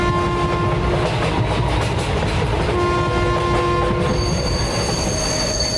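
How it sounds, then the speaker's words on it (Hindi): A train rolls into a station and slows to a stop, wheels squealing loudly and steadily against the rails, with rumbling carriages and a few clickety-clack beats close by. "ट्रेन स्टेशन पर आकर रुकती है।"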